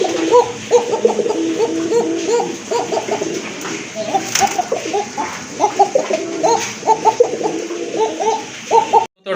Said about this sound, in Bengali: গোলাপ ঝুটির কবুতর